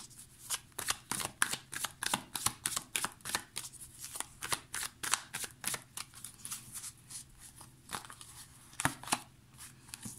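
Tarot cards riffled and shuffled in quick, crisp bursts for about ten seconds, close up with steady papery snaps and a few single card flicks as cards are drawn, with no talking.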